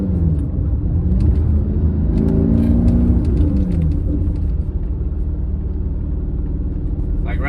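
A manual-swapped Mercedes C55 AMG downshifting into second gear: a loud, steady, close engine rumble and whir that rises briefly in pitch before settling back to a constant drone.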